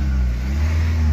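A Honda Jazz car engine idles and revs at a steady low drone, heard close and fairly loud with no talking.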